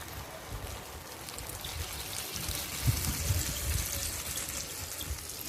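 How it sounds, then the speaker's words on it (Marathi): Water pours steadily into a pan of cooking vegetables with a soft, continuous trickling rush, close and fairly quiet, with faint clinks and no talking. "त्यानंतर आपण ह्याच्यात पाणी घालतो"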